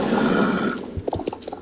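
In the video game Star Stable, a horse gives a loud, drawn-out neigh, followed by a quick run of hoof clip-clops.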